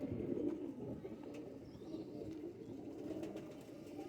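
Soft, low pigeons coo over and over from fancy breed birds, faint and close, with a few light rustles and no talk.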